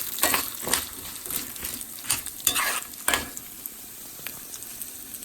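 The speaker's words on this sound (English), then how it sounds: "At this time I'm adding cumin seed and mustard seed." Cumin and mustard seeds sizzle in hot oil in a frying pan alongside golden-browning lentils for Indian lemon rice, with a steady hiss broken by several sharp stirring scrapes and spatters.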